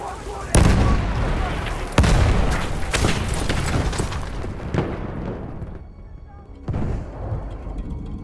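Grenade blasts and gunfire in the World War I shooter Battlefield 1, with several loud booming impacts spaced a second or so apart amid constant battle noise and shouted voices.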